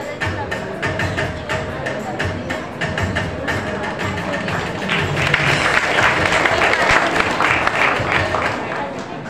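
Applause from an audience at a school ceremony congratulating a student, sustained crowd clapping mixed with murmuring voices, swelling louder in the second half.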